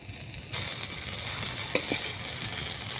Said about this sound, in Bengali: আমার বড়া প্রায় হয়ে গেছে কড়াইতেই থাকবো